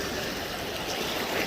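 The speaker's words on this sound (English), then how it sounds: "take inspiration from the waves along the shoreline of Tower Isles" Waves on the seashore at Tower Isle make a steady, soft wash of broadband water noise with no distinct breaks, heard alone and fairly quiet throughout.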